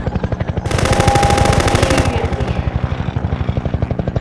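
Rapid automatic gunfire from an enemy in a video game, a steady rattling burst of regular shots that grows denser and louder in the middle before thinning back to a quick, even pulse.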